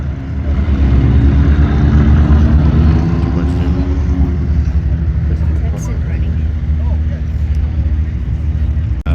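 At the Reno Air Races, a line of STOL race airplanes warms up on the ground, their piston engines a loud, continuous droning rumble close by, with people talking over it.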